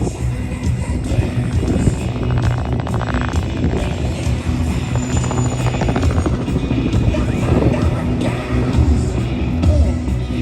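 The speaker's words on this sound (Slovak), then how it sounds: "Ako spomínal Alex, tento vrtuľník vyrábali v Poľsku" A Polish-built helicopter flies at an air show, its loud, continuous rotor and turbine roar with rhythmic blade chop filling the whole stretch, up close and steady.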